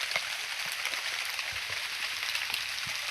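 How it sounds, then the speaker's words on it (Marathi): Steady rain falling over farm fields during paddy sowing in Konkan, a dense even hiss with faint scattered drops, constant and moderately close throughout. "पाऊस आला।"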